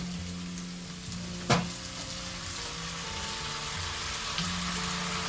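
Mushrooms and eggs stir-fried in a wok with oyster sauce and soy sauce give a steady, close sizzle and hiss, with a spatula scraping and clinking against the pan now and then.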